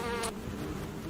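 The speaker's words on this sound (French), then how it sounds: "cette femelle fait vrombir ses ailes pour chasser les abeilles" A close, steady wing buzz from a female moth inside a beehive drones for about a second, a high whine layered over a low hum.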